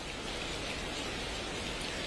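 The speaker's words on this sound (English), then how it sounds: "the rain has become much stronger, accompanying wind, and the raindrops are looking thicker." Heavy city rain driven by wind makes a dense, steady hiss that fills the whole stretch evenly and stays loud and unbroken, with no voices.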